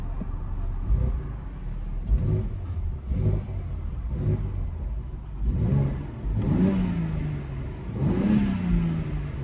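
A BMW X3 M Competition engine revs repeatedly, each rise in pitch climbing and falling back, loud and close with a steady rumble underneath.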